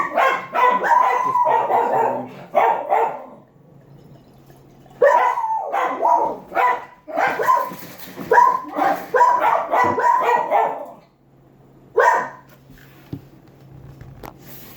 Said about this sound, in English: My dogs saw someone outside that they, for whatever reason, didn't like and started going crazy.